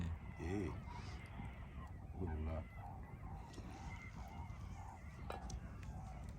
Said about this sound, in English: Listen to that, you know, it's all the birds